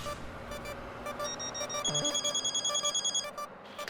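A telephone rings in a domestic scene, a steady electronic trill repeating in bursts over background music, close and fairly loud for several seconds.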